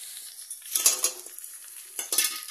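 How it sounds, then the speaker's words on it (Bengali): Cold, thick yogurt drops into a hot pan of browned onions with a sharp sizzle and a spoon scraping and stirring, two bursts of frying noise about a second apart. "পেঁয়াজটা যে ব্রাউন হয়েছে এর মধ্যে আমি এই দইটা দিয়ে দিলাম"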